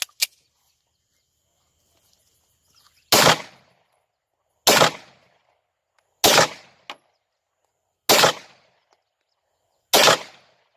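Five loud, sharp gunshots from a gun loaded with refilled cartridges, fired one at a time at roughly one-and-a-half-second intervals with short echoing tails and near silence between.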